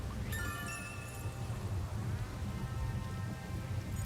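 Steady rain pours in Master Detective Archives: Rain Code, a constant close wash of drops, with faint tonal game sounds drifting through early on.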